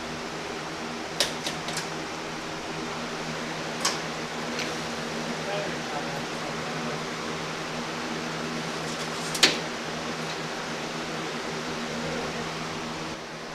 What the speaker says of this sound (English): Sorry about the fan noise, but we'll get lowered down.